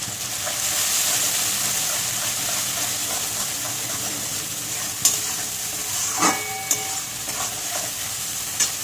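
Turmeric and salt frying in a pan, a steady close hiss of sizzling oil with occasional scrapes and clinks of a stirring spoon, no talking.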